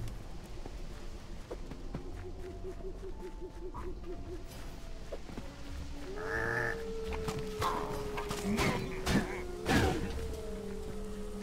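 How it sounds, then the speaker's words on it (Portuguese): Sheep in the video game Minecraft Dungeons bleating several times, the wavering bleats clustering in the second half over light game sounds and soft footsteps. "ali é uma ovelhinha."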